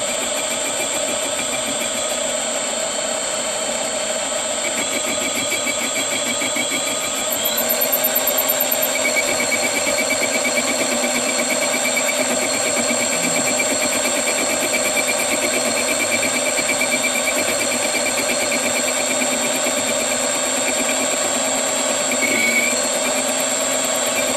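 A Sieg mini lathe turns an aluminum carriage hand wheel at raised speed, giving a steady, continuous machine whine with a constant tonal hum and faint cutting noise throughout, growing slightly louder partway through, with no talking.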